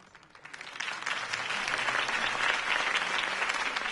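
Applause from a crowd in the Batman Telltale Series video game swells from quiet into a steady, dense clapping that holds loud and even to the end, with no voices over it.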